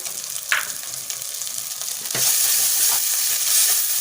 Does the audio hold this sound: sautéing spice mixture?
yes